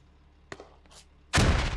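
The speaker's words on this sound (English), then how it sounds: "They all just heard those gunshots." Gunfire in the tactical shooter game Squad: a faint early crack, then a loud, dense burst of shots erupting near the end and continuing without pause.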